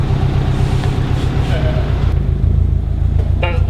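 A Subaru WRX/STI engine left idling, giving a steady loud close rumble with a throbbing low drone throughout, joined by a faint higher rattle near the end.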